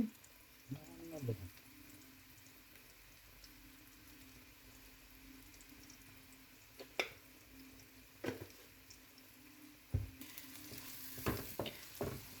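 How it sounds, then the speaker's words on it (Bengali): Onions fry in a pan for an Italian white seafood pasta, a faint steady sizzle under occasional sharp clinks and scrapes of a utensil stirring, with a brief murmur of talk near the start. "পেঁয়াজটা হালকা ভাজা হয়ে গেলে এর মধ্যে এক চামচ গোলমরিচের গুঁড়া দিয়ে দিব"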